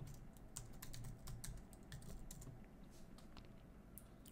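A password is typed on a computer keyboard: soft, quick keystrokes in an uneven run, close but faint, in a quiet room, ending with one sharper key press.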